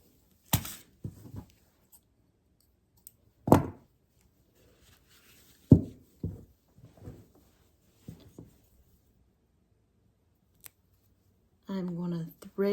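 Scissors cut elastic for doll clothes in a quiet room, with a handful of sharp, separate snips spaced a few seconds apart, followed by a brief voice at the end.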